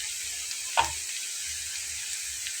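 Ground spice paste hits hot oil with browning onions for a Bengali loitta shutki bhuna, giving one sharp hiss as it lands, then a steady soft sizzle of frying.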